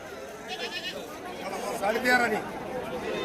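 Goats bleat amid a busy livestock market in Shirur, Pune district, with wavering cries rising over a steady crowd murmur while people talk nearby.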